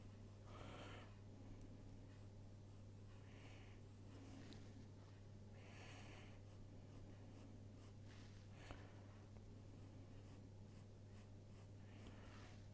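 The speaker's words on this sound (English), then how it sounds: "make one big swoop of the pencil." A pencil sweeping across paper, making soft, papery scratching strokes that come and go in short bursts over a steady low hum, with no talking.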